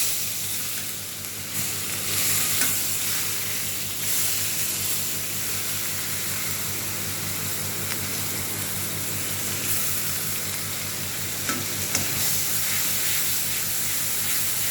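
Paste of ginger, garlic, small onion and green chili fries in a hot pan, giving a steady, close sizzle that holds evenly throughout with no talking.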